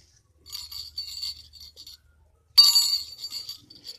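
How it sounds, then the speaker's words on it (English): A bell at a wrestling match gives a few thin metallic chimes with ringing overtones, then a louder sharper clang halfway through, with no voices over it. "Ring the bell."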